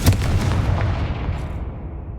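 Confringo fire blast spell from the Hogwarts Legacy video game, a loud explosive burst that opens the clip and then rumbles and fades over about two seconds, with no talk.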